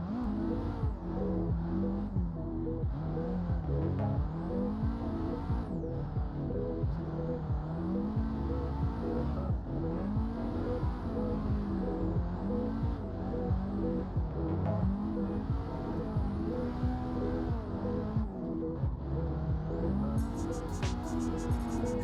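A drift car in a racing video game revs steadily for a full lap, its engine note climbing and dropping in repeated waves with occasional tire squeal, loud and constant without talk.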